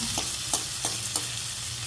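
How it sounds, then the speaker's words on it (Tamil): Tomatoes sizzle steadily in a hot pan, with a few soft scraping stirs at regular intervals. "சுருங்குற வரைக்கும் வதங்கணும்"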